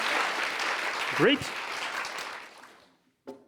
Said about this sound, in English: I was hoping for a short applause here.